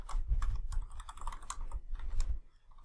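Fast, uneven keystrokes on a computer keyboard while writing C# code, close and clear, in short bursts with brief pauses and no talking.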